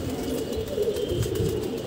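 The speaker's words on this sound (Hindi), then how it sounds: "अभी कबूतर खोला हूँ मैंने, देखिए आप" Pigeons let out of their loft coo softly in a low, continuous murmur, several birds overlapping at close range with no speech.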